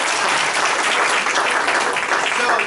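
Audience applause fills a room at a fundraising workshop, a dense, even burst of many hands clapping at once, loud and close throughout with no break.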